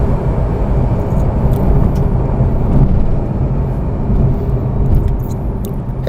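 Tesla Model 3 pulling hard at full throttle down a drag strip: a loud, steady, broadband rush of road and wind noise with a faint electric whine, no voices over it.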